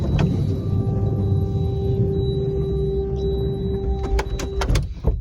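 Electric sliding side doors on a Citroën C8 people carrier run with a steady motor whine that holds for several seconds, then end in sharp latching thunks and clicks. No one speaks.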